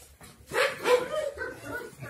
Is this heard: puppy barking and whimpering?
yes